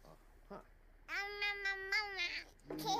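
A cat in The Sims 4 lets out a long, clear meow followed by shorter mews, close and moderately loud, with game sounds between the calls.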